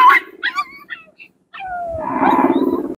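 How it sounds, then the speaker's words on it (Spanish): A dog on a walk near a shoreline gives a few sharp, close barks, falls briefly silent, then lets out a longer, rougher growling bark. "¿A quién le ladras, Hércules?"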